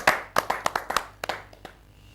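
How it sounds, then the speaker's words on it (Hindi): An audience claps to welcome the poet Deepak Gupta at a Hindi humour poetry gathering, a short sparse burst of a dozen or so sharp handclaps that thins out and fades within two seconds. "जोरदार ताली से स्वागत करें दीपक गुप्ता"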